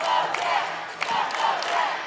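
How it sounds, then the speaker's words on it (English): Volleyball crowd at a Tufts Jumbos match against Bates chanting the Jumbo Jet cheer in a gym, rhythmic group shouts pulsing in bursts at moderate distance. "the Jumbo Jet cheer from I guess the away side starting a cheer for the home side there"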